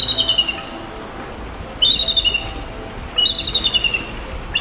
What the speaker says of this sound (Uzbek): oq boshli burgut